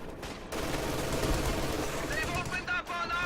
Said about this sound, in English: Looks like some sort of artillery coming in on the machine gun as well.